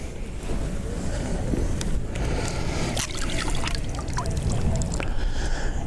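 A UV-9G GMRS handheld radio splashes and sloshes about in water while being pulled out, giving steady, close, broadband watery noise with a few sharper splashy transients.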